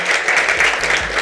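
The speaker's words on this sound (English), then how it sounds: "may I please ask everybody to give yourself a very big applause" Audience at a Techathon award event breaks into loud, continuous applause, dense clapping that stays strong throughout the short burst.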